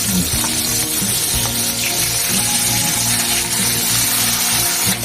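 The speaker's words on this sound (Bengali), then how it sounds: "কড়াইতে তেল দিলাম হ্যাঁ এবার এই যে চার পিস মাছ ছিল এই মাছটাকে একটু ভেজে নেব" Prawns fry in oil in a kadai with a steady, dense sizzle that holds at an even level from start to finish, with no talking.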